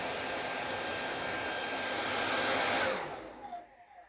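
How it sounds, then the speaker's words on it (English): A hairdryer blows with a loud, steady rush, then switches off, leaving a few faint clicks and rustles. "And as I move the hairdryer or the wind,"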